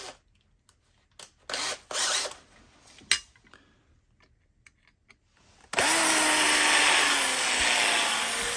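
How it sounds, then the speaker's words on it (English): A power drill bores out the middle rivet of a diecast Chevy Bel Air lowrider model. After several brief scrapes and taps, a loud, steady whine runs continuously to the end. "I think I only need to drill the middle one out"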